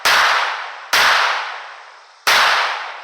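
Three loud, sharp revolver shots ring out at a range as steel 2-inch targets are fired on, each crack followed by a long echoing decay, spaced roughly a second apart.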